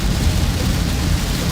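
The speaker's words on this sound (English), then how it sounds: "I mean, it is raining right now." Rain falls during a tornado-warned storm, a dense, steady hiss with a low rumble underneath, constant and close without a break.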